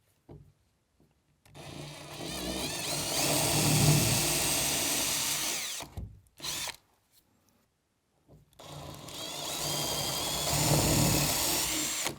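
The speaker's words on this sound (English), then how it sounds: "I'm going to start with a 9mm masonry drill bit with the drill onto a masonry setting" A power drill with a 9mm masonry bit on masonry setting grinds into a hard wall in two long bursts separated by a short pause and a brief blip, loud and close.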